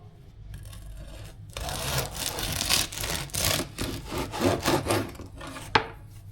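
A knife saws through a loaf of hot, freshly baked bread made from pizza dough, giving repeated dry rasping, crackling crust strokes close up, with a sharp knock near the end.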